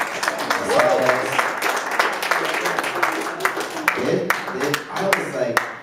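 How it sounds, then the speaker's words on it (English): Church audience applauding during a Sunday school program at a family church service, a steady wash of many hands clapping over several seconds with voices mixed in. "how about a round of applause for the"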